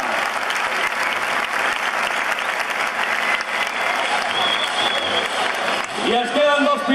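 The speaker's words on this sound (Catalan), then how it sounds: "A la qual cosa els aplaudiments que acabem d'escoltar els multiplicarem per 2, per 3, per 5 o per 10." Crowd applause filling a bullring at an indoor motorcycle trial event in Tarragona, sustained and dense, with a voice and tonal sounds entering near the end.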